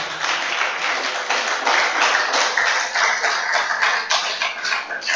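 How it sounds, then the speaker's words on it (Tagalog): A church congregation claps through a sermon, with steady dense hand claps filling the room continuously at an even, fairly loud level. "Parang mahina ang palakpak natin, mga kapatid."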